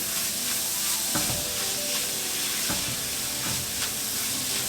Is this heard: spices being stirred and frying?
yes